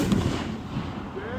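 An artillery shell firework launches with a loud, close thump and a hissing tail fading over about a second.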